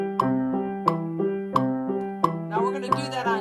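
A piano in C plays a right-hand chord over a rolling Alberti bass in the left hand, with a metronome clicking steady beats on top; the notes ripple evenly and close, with a fuller chord change near the end.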